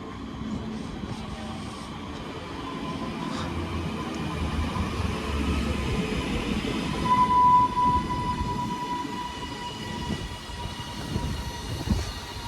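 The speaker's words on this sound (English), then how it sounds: "here comes the 12:30 all Northern service to Manchester Airport from Blackpool North" A Northern train on the Blackpool North to Manchester Airport service arriving, a steady rumbling roll of wheels and a sustained whine building gradually, heard from the platform with no talk.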